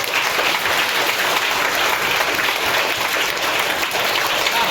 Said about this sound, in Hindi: हृदयानंद सर के लिए एक जोरदार ताली आप लोग बजाएं।